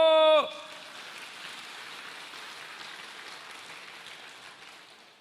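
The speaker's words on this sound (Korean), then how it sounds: "박수!" A church congregation at a Korean sermon applauds after a short spoken word, producing a steady, hissing wash of many hands clapping at moderate volume that slowly fades.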